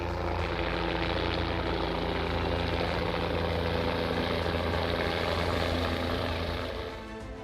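A hired helicopter flies toward a village, its rotor and engine roar loud, steady and close for the whole stretch before easing slightly at the end.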